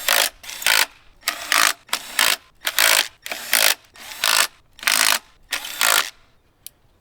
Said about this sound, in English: now we're gonna put all the 10mm bolts that go on there